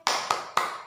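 Three sharp hand claps ring out close and evenly spaced, opening the tepuk anak soleh clapping chant in a classroom lesson.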